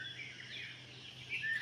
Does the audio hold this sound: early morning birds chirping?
yes